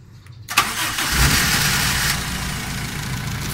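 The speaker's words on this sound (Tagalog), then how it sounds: "Okay, so start ko lang yung makina." A car engine with oil spurting from the dipstick tube cranks and catches, then settles into a steady, loud idle that continues to the end.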